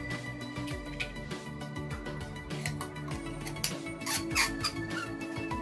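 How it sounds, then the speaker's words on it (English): Metal threading on an iStick Pico S vape mod being screwed, giving a run of close, squeaky squeals and scrapes at a steady moderate level with no voices. "very squeaky threading."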